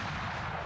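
A rifle gunshot in the hunting video game Hunting Unlimited: a single loud, dense blast filling the whole short moment, with no voices.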